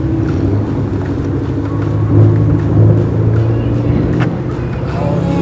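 Cars rolling out together from a car meet on a group cruise, a deep continuous engine rumble from several vehicles nearby that swells briefly midway, with faint background voices.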